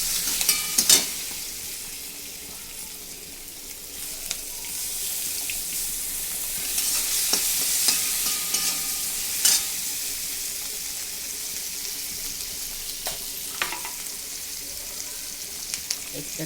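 Green chillies sizzle steadily in a hot pan with oil, with occasional stirring clicks and scrapes from a spoon over a continuous frying hiss.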